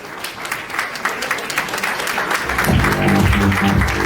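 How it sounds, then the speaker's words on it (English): A crowd applauds, scattered clapping swelling into fuller, steady applause mixed with a low rumble of voices. "I would like to give a round of applause, a standing ovation to all our lady presidents"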